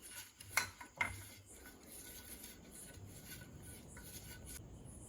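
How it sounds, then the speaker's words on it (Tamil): Ghee being spread inside a cake tin for an eggless vanilla cake baked without an oven: two sharp metallic clinks early on, then a steady soft scraping and rubbing close by. "இப்போ ரெண்டாவது கேக் ஊற்ற நெய் தடவிப்போம்."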